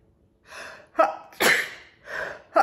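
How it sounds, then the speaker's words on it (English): A person gives a sneeze in a quiet indoor room, with a sharp intake of breath building up to one loud, explosive burst and then a couple of shorter breathy sounds. "I have to sneeze"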